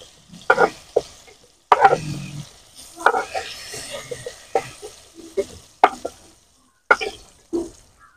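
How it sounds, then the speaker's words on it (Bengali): Food being stirred in hot oil in a kadai: intermittent scraping strokes of a spatula over a continuous crackling sizzle, close and moderately loud, with no voices. "একদম সামান্য টাইম তেলের মধ্যে নাড়াচাড়া করে নিতে হবে।"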